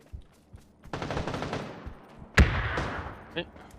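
Bursts of automatic gunfire in a PUBG match, a dense rattling stretch followed by a sharp loud shot and a later smaller burst, with players' voices talking over it.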